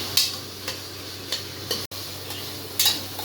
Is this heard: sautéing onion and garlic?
yes